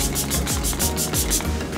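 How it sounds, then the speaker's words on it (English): Wet n Wild setting spray misted onto a face in a quick series of about eight to nine rapid, evenly spaced hissing pumps, close and steady. "Now I'm gonna go in with the setting spray from Wet n Wild and Bretman Rock."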